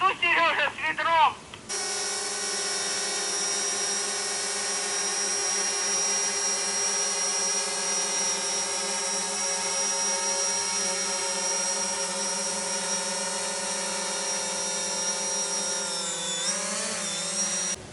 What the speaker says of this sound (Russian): Вот сейчас дрон прямо надо мной.